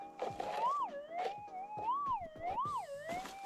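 A metal detector's warbling electronic tone over a buried target while prospecting for gold, rising and falling in pitch, fairly loud and continuous, with scratchy digging or rustling noises breaking in underneath.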